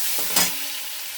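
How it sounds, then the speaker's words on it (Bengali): Chopped onions dropped into hot oil left from frying pointed gourd, giving a soft burst of sizzling and stirring, then a steady faint frying hiss on its own. "কুচানো পেঁয়াজটা দিয়ে দিচ্ছি।"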